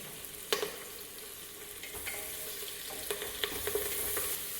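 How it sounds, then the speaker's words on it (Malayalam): Sliced onion and curry leaves crackle in hot oil for a Kerala wedding-style beef curry, a moderate steady sizzle broken by several sharp spatula clinks and stirs, close up. "അതിലേക്ക് സവാള, എടുത്തു വെച്ച് 2-3 തണ്ട് കറിവേപ്പിലയിൽ നിന്ന് 2 തണ്ട് കറിവേപ്പില ചേർത്ത് കൊടുക്കാം"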